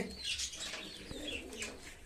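Domestic loft pigeons coo softly and low in a steady murmur, with a few faint chirps and a brief flutter above it and no talk.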